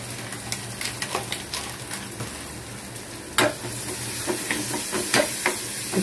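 Okra (bhindi) frying in a pan is stirred with a steady sizzle and hiss, while irregular scrapes and clatters of the spoon sound close by. No one speaks.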